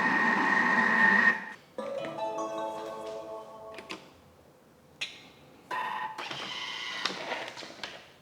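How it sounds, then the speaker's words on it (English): A Thermomix TM6 kneads white bread roll dough, giving bursts of mechanical whirring and rhythmic knocking that start and stop with short quiet gaps between, fairly close and steady, with no talk. "It's going to knead for 4 minutes"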